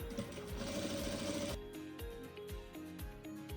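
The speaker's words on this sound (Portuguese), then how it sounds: "você vai passar uma costura, não muito na beiradinha, mas também menos que um pé de máquina, sem retrocesso" A sewing machine runs a wide, loose gathering seam on fabric with no backstitch. It starts with a loud, fast continuous whir, then slows into close, evenly spaced stitching thumps.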